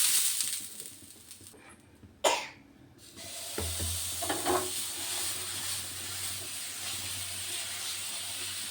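A crisp dosa of ration rice batter cooking on a hot pan, a steady bright hiss of steam and sizzle that swells after a brief gap and a cough, then holds evenly to the end.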